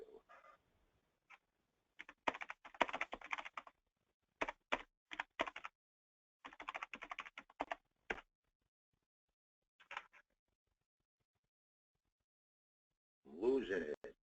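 Quick bursts of clacking keystrokes come in short runs separated by pauses, close and fairly quiet, with a brief voice at the very end.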